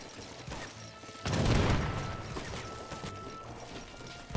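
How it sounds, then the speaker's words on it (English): Cannon attack fired from a frigate in the Age of Empires video game: a sudden booming blast about a second in, followed by a rumbling crash that trails off under busy battle noise. "Lionheart uses the cannon attack."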